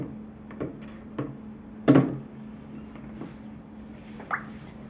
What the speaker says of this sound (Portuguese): Quando você mergulha ela no balde de água gelada, ela automaticamente para de fazer a sublimação.